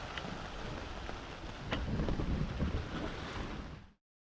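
Rain falling outdoors on a deserted island, a dense steady hiss of drops that swells slightly midway and then cuts off, heard alone.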